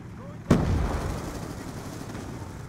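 A frag grenade blast in Call of Duty Black Ops II slams in suddenly and loud, its low rumble decaying over a couple of seconds amid a steady backdrop of distant battlefield gunfire.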